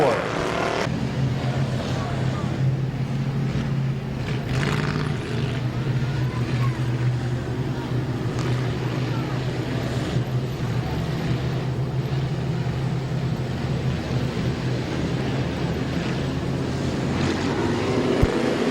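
Stock cars race around Midvale Speedway with a steady, continuous engine drone from a distance, mixed with wind and crowd noise, and an announcer talks over the roar throughout.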